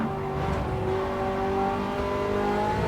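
A race car engine in Gran Turismo 7 changes pitch as the car brakes into turn 1, a loud, continuous motor tone with shifting revs and no talking over it.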